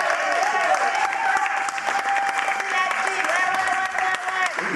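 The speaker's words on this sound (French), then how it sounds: "Sous vos acclamations, s'il vous plaît." Wedding guests applauding steadily at a reception, a dense wash of clapping held at an even level for several seconds, with sustained voices cheering or singing over it.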